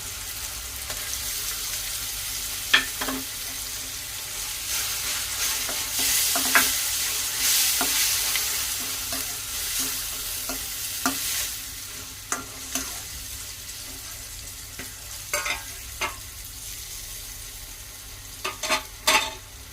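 Ginger, garlic, black pepper and two green chilies frying for an Andhra mutton curry, a continuous sizzling hiss with scattered stirring clinks and scrapes over about twenty seconds, close and fairly loud with no speech.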